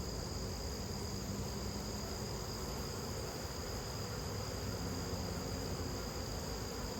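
A mass of honeybees being scooped up fills the air with a steady, dense buzzing hum that holds at an even level throughout.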